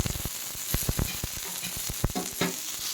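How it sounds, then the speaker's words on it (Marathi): Hot green chillies roasting in a pan at home, crackling and popping in sharp irregular bursts over a steady sizzle, close and clear, with no one talking. "आता तिखट मिरची असल्यामुळे जरा जास्त हिला भाजून घ्यायची."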